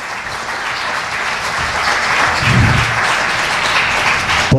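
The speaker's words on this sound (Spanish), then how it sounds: "Y denle un aplauso a Dios." Church congregation applauding, a steady wash of many hands clapping, loud and close, continuing for several seconds without talk.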